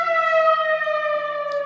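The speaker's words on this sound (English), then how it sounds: "siren or whatever this is" A siren wails steadily outdoors, a sustained tonal whine with layered harmonics holding a nearly flat pitch that sags slightly, loud and unbroken with no voices over it.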